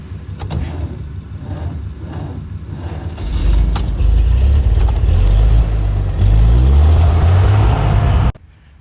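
A 1929 Buick car driving along a road, its low engine rumble steady and fairly loud throughout, with the engine note rising and thickening partway through before cutting off abruptly near the end.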